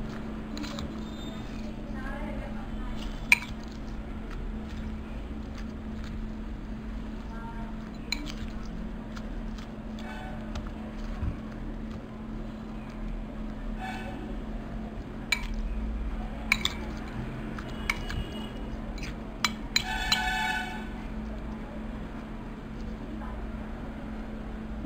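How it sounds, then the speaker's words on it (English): Tomato, tamarind and crystal salt being mixed by hand in a bowl for a tomato pickle, with soft squelching and scattered light clinks over a steady low hum, plus faint voices in the background. "Now we are going to mix tomato, tamarind and crystal salt."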